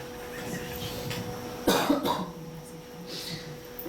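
A single sharp cough bursts out near the mic, followed by a short rough throat-clearing, over a quiet room hum.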